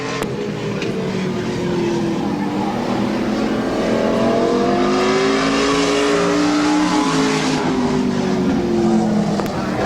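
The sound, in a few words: stock car racing lap at a speedway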